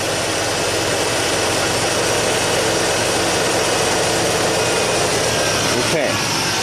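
A Nissan Xterra engine runs steadily at a raised idle, a continuous close mechanical drone with a slight vibration, unbroken for several seconds.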